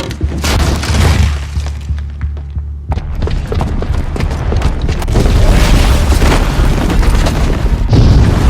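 A bomb booby trap goes off in Horizon Zero Dawn on PS4, a heavy booming blast with crashing, shattering debris that rumbles on loudly for several seconds, without speech.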